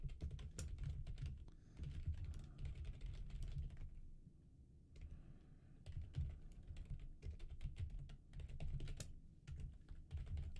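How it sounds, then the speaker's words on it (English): Quiet, close typing on a computer keyboard, with rapid irregular key clicks in bursts and a short pause midway, alone with no talking. "I'm going to type in hello."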